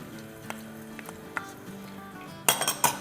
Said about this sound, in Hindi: 2 मीडियम साइज़ की प्याज इसमें फ्राई कर लें